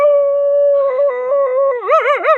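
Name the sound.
man imitating a dog barking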